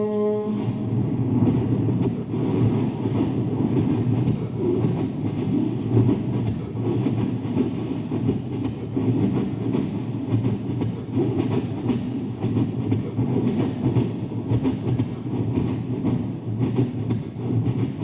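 A voice imitates a train passing a railway station, a steady loud rumbling clatter with rhythmic clickety-clack texture held continuously for around eighteen seconds without pause.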